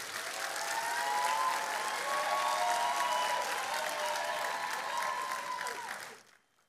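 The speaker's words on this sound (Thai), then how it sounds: "ปรบมือดังๆ ให้กับสปอนเซอร์ของผมด้วยครับ" Loud, sustained applause from an audience at a business presentation, honoring a sponsor, with a full wash of clapping that holds steady for about six seconds before fading out quickly.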